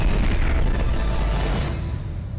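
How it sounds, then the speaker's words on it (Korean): A huge explosion destroys a building in a comedy robot film, a loud deep rumbling boom that fills the space and slowly decays. "그렇게 엄청난 폭발이 일어나게 되는데요"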